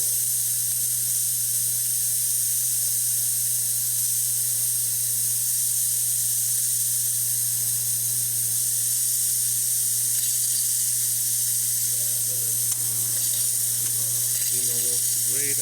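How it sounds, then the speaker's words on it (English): A Quick Mill Silvano espresso machine's steam wand steams with a steady high hiss over a constant low hum, followed toward the end by some gurgling and sputtering. "And let's test the steamer."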